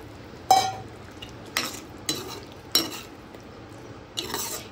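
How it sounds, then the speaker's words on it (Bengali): Pre-fried, softened eggplant is stirred into a watery spice mixture in a pan for a fish curry, giving about five sharp spatula scrapes and clinks against the pan at an uneven pace, close and fairly quiet. "এবার দিয়ে দিচ্ছি আগে থেকে ভেজে রাখা বেগুন।"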